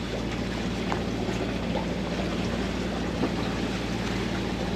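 A sailboat motors against a headwater current, with a steady low engine drone and broadband water and wind rush that stays constant and close.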